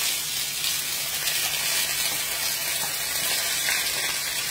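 Onions sautéing in hot oil as a base for cabbage, a steady close sizzle and hiss that runs evenly throughout with no talking.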